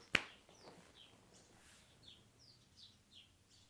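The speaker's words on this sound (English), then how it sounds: "Do you hear all these birds?" Faint, sparse bird chirps from birds nesting in a garage repeat every half second or so against quiet background hiss, after a sharp click at the start.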